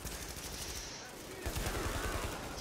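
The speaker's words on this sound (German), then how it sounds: "Mein Türmchen ist fleißig am Schießen." Rapid automatic turret fire in The Division, a dense stream of shots continuing through the whole moment, with a louder burst partway through.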